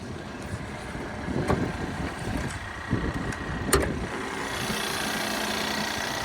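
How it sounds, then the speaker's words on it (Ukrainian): A Ford Edge 2.0 Titanium engine idles steadily with a low, even rumble, a few soft knocks and bumps over it and a slight breezy hiss. "Робота двигуна."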